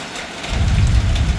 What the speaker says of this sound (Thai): นั่นเสียงฟ้าร้องคลืนคลืน